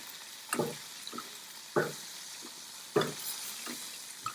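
A steak fries in a pan with garlic on top while being basted, a steady sizzle broken by several distinct clanks and scrapes as the pan is lifted and tilted, close and fairly loud with no talking.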